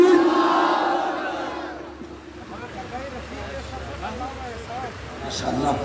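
A large crowd at a Khatm-e-Nabuwwat religious conference roars back the Takbir slogan in unison, loud and sustained, then fades into a diffuse crowd murmur that swells again at the end.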